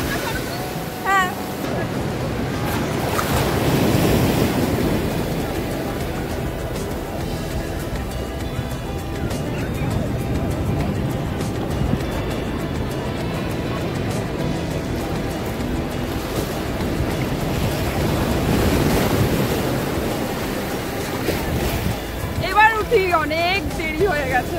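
Sea waves on the beach at Puri roll and break in a continuous roar that swells twice, heavily buffeted by wind on the microphone, with people talking over it.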